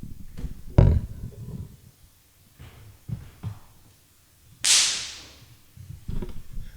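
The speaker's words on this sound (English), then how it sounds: "So the noise of a whip being cracked tells a hunting hound to stop." A homemade whip made from an old broom handle, climbing rope, bootlace and masking tape cracks once with a sharp, loud snap near the middle, set among quieter thumps and rustling.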